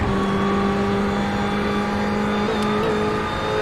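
A race car engine laps the banking at Daytona in a racing video game, giving a loud, continuous high-revving drone with a slight stutter near the end and no talking.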